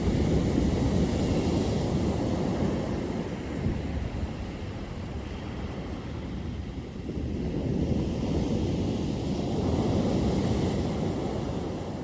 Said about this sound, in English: Certainly some big swells out there at the minute.